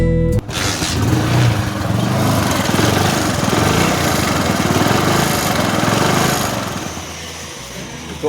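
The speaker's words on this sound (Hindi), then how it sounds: "आप एक बार इसके टाइमिंग चेन साइड जो आवाज़ है उसे सुनिए" A Hero HF Deluxe motorcycle engine runs close and steady, with a mechanical rattle from the timing chain side underneath, the drone holding level before easing off near the end.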